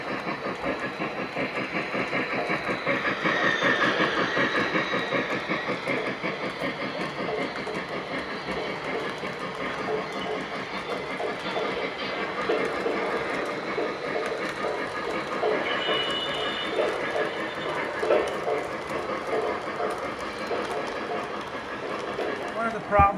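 An O scale model train led by a Berkshire locomotive rolls steadily along the track, a continuous rumble with clicking rail joints and a hissing edge that swells early and stays fairly loud throughout.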